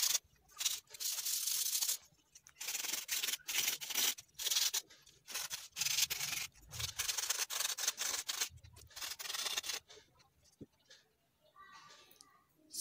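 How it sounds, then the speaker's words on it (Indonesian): Bamboo boomerang being sanded by hand, repeated bursts of scratchy abrasive rubbing in uneven strokes with short pauses between them, fairly close, with no talk. "kemudian diamplas"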